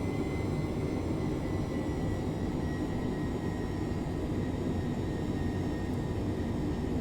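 Steady, loud jet engine roar from an F-22 Raptor taxiing to its stand in Microsoft Flight Simulator, a continuous low rumble with a faint high whine that holds constant throughout, with no talk over it.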